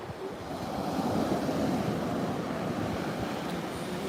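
A beach on a breezy afternoon, with waves surging and washing ashore under a constant rush of wind buffeting the microphone, steady and moderately loud, with no talking.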